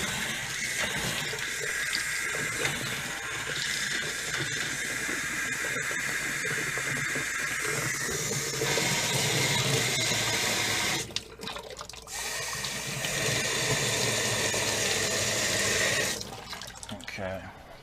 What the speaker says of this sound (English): So we'll run some water and get the air out of the lines.